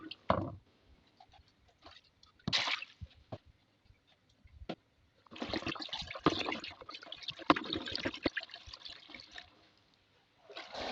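Old Dettol antiseptic liquid is poured into a container in irregular bursts of splashing and trickling, with quiet gaps between pours, heard close up and without voices.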